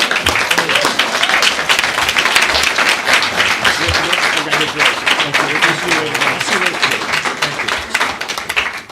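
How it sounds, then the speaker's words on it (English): Sustained applause from a sizable crowd at a Capitol Hill advocacy day event, dense steady clapping throughout with a few faint voices mixed underneath. "we'll have a nice round of applause"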